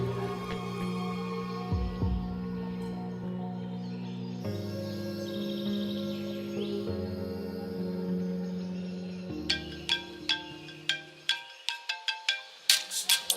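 A phone ringtone plays a sustained melodic tune with layered tones, then shifts into a run of sharp, rapidly repeating chirping beeps that grow louder toward the end, with no talking.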